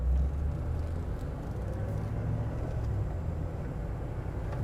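A 1996 Land Rover Defender 110 pulling away on the throttle, its deep engine rumble steady and close from inside the cabin, with no talking over it.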